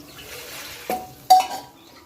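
Cooked mung beans stirred with water added in the pressure cooker pot, heard as two short clinking scrapes of a spoon against the metal over a quiet background.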